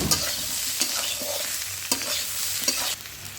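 A spatula stirs chilli and cumin powder through shukto in a frying pan, with several scraping strokes over a continuous close sizzle, and no one speaks.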